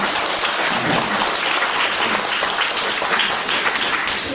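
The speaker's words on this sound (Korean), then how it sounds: "같이 스타디 할 수 있도록 박수 한번 드리겠습니다." Staff at a Yuba surgical clinic training session clap for their team leaders, a steady, even wash of many hands applauding throughout without any break.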